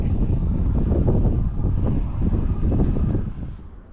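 Wind buffeting the microphone at Sardis Lake, a loud, rough, continuous rumble that eases slightly toward the end.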